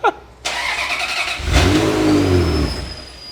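Ferrari F355 GTS engine cranking to life after a short chirp, then catching and revving hard before easing back, loud and close, with a high whine lingering near the end.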